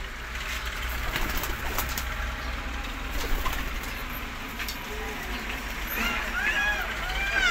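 Pigeons coo softly in a loft while someone talks over them, with some rustling and movement in the background.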